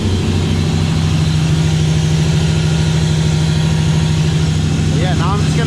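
A car engine runs with its muffler removed, a deep, steady idle holding constant and loud for the whole stretch, with a faint chirping sound near the end.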